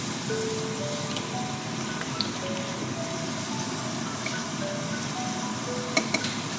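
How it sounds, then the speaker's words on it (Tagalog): Chicken pieces frying in hot oil until golden, a steady dense sizzle and crackle throughout with a few sharp pops near the end, no talking. "isunod po natin tong chicken guys na iprito para masarap guys"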